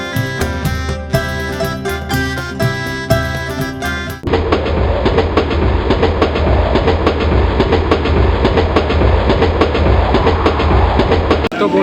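A train rolls out of Durgapur station at night, with a steady low rumble and rhythmic clickety-clack of the wheels, heard loud from inside a coach; music plays over the first few seconds before the rail noise takes over.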